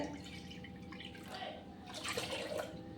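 Water poured from a bowl into a cooking pot while making rava pongal, a steady splashing, trickling pour that swells louder toward the end, heard alone and close.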